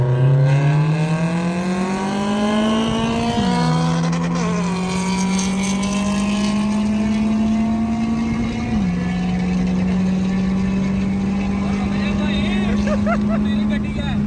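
A K24 race car engine on track holds a loud, steady high drone with two brief dips like gear changes, then climbs again, sustained close throughout with people talking over it.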